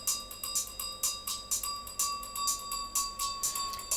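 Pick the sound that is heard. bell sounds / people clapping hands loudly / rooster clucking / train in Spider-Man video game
bell sounds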